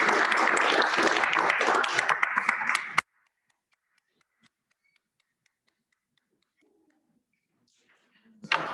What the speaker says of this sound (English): Thank you for the continued applause